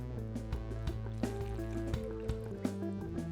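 Ginger juice pours into a pot of honey for a Penicillin cocktail, a steady close liquid flow with soft dripping splashes recurring every half second or so.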